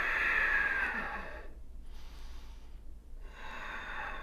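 A person breathes out, then draws a slow, deep inhale through the nose while seated during a decompression breathing exercise. The breath is close and airy, with a brief pause in the middle.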